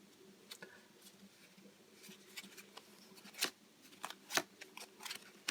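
Playing cards being handled and pushed into place for a card trick, giving soft, scattered flicks and rustles up close, with a few sharper snaps, and no talking.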